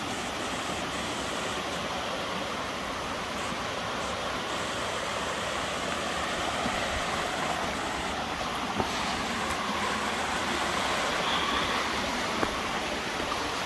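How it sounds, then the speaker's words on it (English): Emery Gap Waterfall at Frozen Head State Park, Tennessee, swollen after heavy overnight rain, gives a steady, full broadband rush of falling water, continuous and fairly loud with no voices. "Emery Gap Waterfall."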